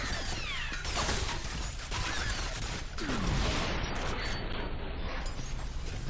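Rapid bursts of gunfire from the horror first-person shooter game F.E.A.R., dense and crackling, with mechanical clatter and crashing debris over a sustained, loud barrage.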